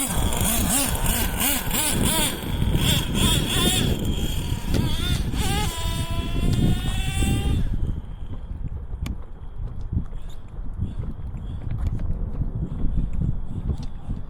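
A Traxxas T-Maxx nitro RC truck engine warming up runs steadily nearby with a high buzzing whine that rises and falls, then settles into a rougher idle.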